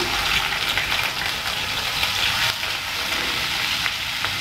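Onions frying in a pan on a medium flame for dhaba-style kadai paneer, a steady, close, loud sizzle with a few brief louder crackles and no talking.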